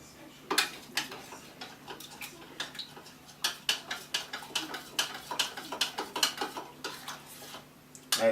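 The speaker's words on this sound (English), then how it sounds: "Stir it up real good" A spoon stirs sugar into hot water in a container while bottling homemade Irish stout, producing quick, irregular clinks and taps against the vessel, close and fairly quiet, with a brief pause before the final strikes.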